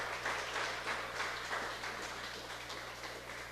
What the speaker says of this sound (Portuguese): Quem pode aplaudir a Jesus assim o faça.